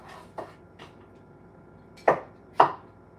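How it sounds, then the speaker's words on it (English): Peeled citrus fruit chopped on a cutting board with a knife for the blender: two soft taps, then two sharper, louder chops close by, with no talking. "And then we'll chop it as we go and put it into the blender."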